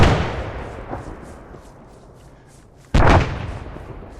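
Two grenade explosions in the Cold War ArmA 3 game, a loud booming blast at the start fading into a long decay, then a second sharp blast near the end, close and heavy with no talking.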